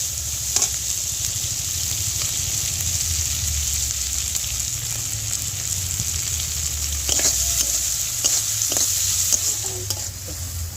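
Chopped onion frying in oil in a pan for an okra and shrimp curry, a steady loud sizzle throughout with occasional stirring scrapes and clinks.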